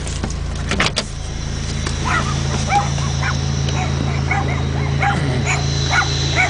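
Small dogs yip and bark repeatedly in quick, high bursts from a short distance, over a steady low engine hum.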